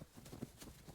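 Horse hooves clop in a few soft, close beats beside a horse-drawn carriage, faint and brief against a quiet background.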